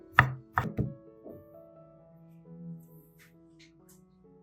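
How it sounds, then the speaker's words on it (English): A knife cutting broccoli into small pieces, three quick close chops on a board followed by a softer one, then a quiet pause with faint handling sounds. "Cut the broccoli into small pieces"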